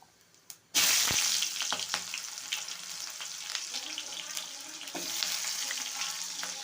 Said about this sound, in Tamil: கடுகுலுந்து வெந்தயம் சீரகம் பொறிஞ்சதுக்கப்புறம் வெங்காயம் போட்டுக்குவோம்